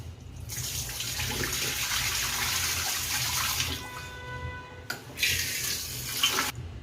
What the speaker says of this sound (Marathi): हे अशा प्रकारे असं गढूळ पाणी निघतं. त्यामुळे आपल्याला हे असं हे टाकून द्यायचं